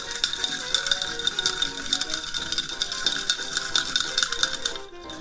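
A swizzle stick spun between the palms churns ice in a rum swizzle cocktail, giving a steady, close run of rapid rattling clicks that continue without pause before stopping abruptly near the end.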